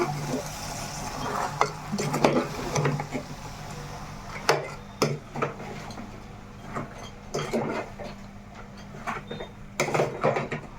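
Goat head curry fried in oil in a pan, a spoon scraping and stirring in irregular bursts over a soft sizzle, with quiet gaps between strokes.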